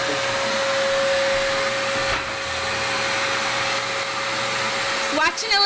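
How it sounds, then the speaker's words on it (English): Vacuum cleaner running on a household floor, a loud steady motor whine with a constant tone, close and continuous, with a brief clatter near the end. "Keep vacuuming."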